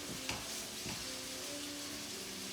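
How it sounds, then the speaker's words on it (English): Butter melting in a hot pan for a chicken piccata gives a soft, steady sizzle and crackle, quiet and close with no talking. "We're letting our butter melt."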